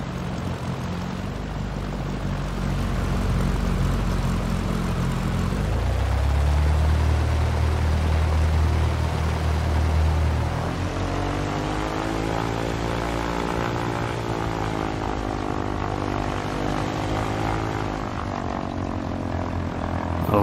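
Propeller airplane rolling along the ground after landing in X-Plane 11, a steady loud engine drone with a low throb that shifts pitch midway, continuous throughout.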